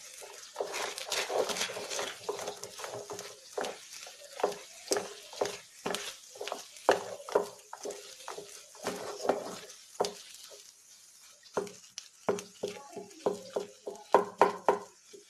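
Ripe banana being stirred and fried in ghee for halwa, with a spoon scraping the pan in irregular clicks and knocks over a soft sizzle, fairly close and continuous.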